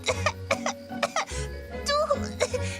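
A cartoon girl gives a series of short, dry coughs in quick bursts, close and clear, with a brief pause in the middle.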